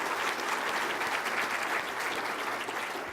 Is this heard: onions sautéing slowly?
no